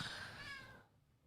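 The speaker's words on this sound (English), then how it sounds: "Was that the cat? That was the cat." A cat gives one short, close meow that fades out quickly, heard alone in a quiet room.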